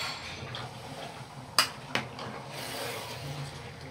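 A spoon scrapes and clanks against a pot while 5 kg of chicken is stirred, with two sharp metallic knocks over a soft background hum and no talking.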